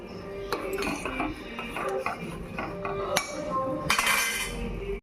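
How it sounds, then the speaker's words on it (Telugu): Metal spoon clinking and scraping against a cooking pot while a masala mixture with crushed cardamom powder is stirred, a series of close, sharp clinks over a steady background hum. "ఒకసారి చెంచా పెట్టి తిప్పుకున్నాం"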